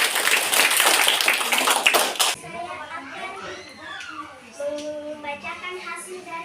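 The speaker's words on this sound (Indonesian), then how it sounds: "Kita berikan tepuk tangan untuk kelompok 1" Classroom group applauding a student group, a dense burst of many hands clapping for about two seconds, then it stops and voices talk.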